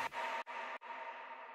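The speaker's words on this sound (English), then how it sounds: "And that noise is just a serum patch." A bright, hissing noise synth patch built in Serum plays alone, with sustained wideband noise broken by two sharp gaps before a longer, slowly fading tail.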